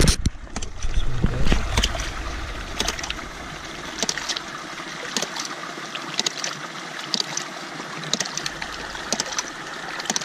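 Water and built-up pressure are slowly released from a homemade ram pump, giving a steady rushing, trickling flow with scattered clicks and splashes over about ten seconds.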